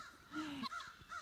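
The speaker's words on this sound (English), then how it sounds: "He's here every day, sits at the top of the tree and crows." A crow perched at the top of a tree caws from a distance in a short burst of harsh calls, with faint background noise around them.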